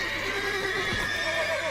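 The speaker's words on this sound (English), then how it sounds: "These poor horses are like freaking out." Panicked horses in The Witcher 3 video game whinny and neigh loudly, with hoof clatter close by, in a short agitated burst with no talking.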